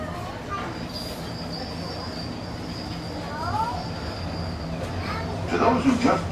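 Wheels of the Disneyland Railroad train squeal faintly under a steady rolling rumble as the train runs along the track, with a thin sustained whine and a louder scrape near the end.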